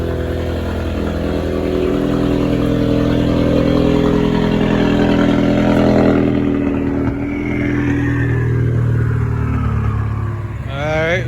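A 2015-2019 Ford Mustang EcoBoost with a new downpipe and intake revs loudly and close, a steady droning exhaust note that swells and then eases, with brief voices near the end.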